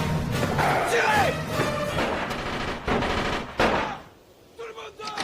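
Gunfire in a horror film: bursts of rapid shots and loud bangs with crashing impacts, mixed with shouting voices in French dialogue, several sharp blasts standing out near the end.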